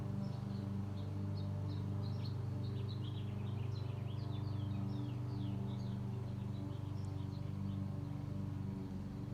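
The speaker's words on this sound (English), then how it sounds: "The birds are chirping all around me up in the trees." Birds chirp and tweet in the trees outdoors in repeated short calls over a steady low drone from a lawnmower mowing grass in the background; no one speaks.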